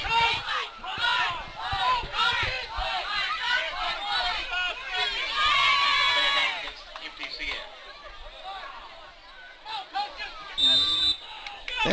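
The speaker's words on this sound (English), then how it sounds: "the crowd are begging for the coaches to get to play in on time" Spectators at a junior high football game between MTCS and Cascade, a lively babble of chatter and shouting from a crowd in the stands, rising and falling in waves.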